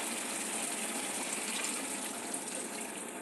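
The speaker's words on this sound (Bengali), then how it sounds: "দেখো এবার কর্নফ্লাওয়ারটা আমি ঢেলে দিলাম" Cornflour slurry is poured into a pan of chili chicken, giving a steady, loud, even rushing hiss that lasts throughout without any break.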